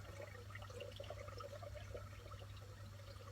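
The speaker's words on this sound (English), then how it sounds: "why have I got water running down the drain?" Water from a running dishwasher drains down an outdoor drain, a faint, steady trickling gurgle over a constant low hum.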